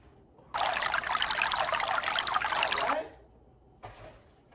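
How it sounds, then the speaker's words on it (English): Liquid pouring into a mixer bowl while cooking at home: a steady, bright trickling pour lasting about two and a half seconds, then quiet, followed by a brief second splash, close and moderately loud with no talk. "So let's get to pouring."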